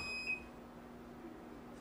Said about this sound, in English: now the timer decides to go off